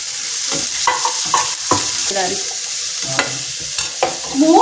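Two medium chopped onions fry in hot oil with a steady sizzle, while repeated scraping stirs of a spoon in the pan come through loud and close.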